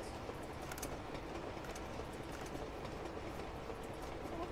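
A train rolls on rails in the video game Uncharted 2, a steady dense rumble with rhythmic clickety-clack of wheels, continuous and fairly close throughout without talk.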